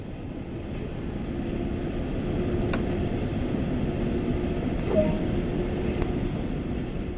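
A train rolls along in Train Sim World 2020, a steady low rumble and rail drone holding constant with a few faint clicks over the top.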